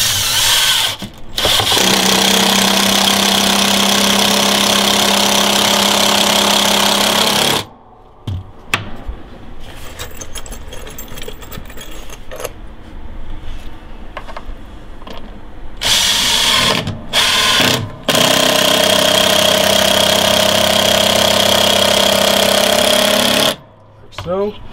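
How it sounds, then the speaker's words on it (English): A power drill drives screws into attic door framework, loud close whirring bursts of several seconds each with short pauses, and a voice speaks between the runs. "We'll attach a couple of screws to make sure that that stays in place."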